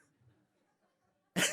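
One short, sharp cough near the end, loud and close after a near-silent stretch.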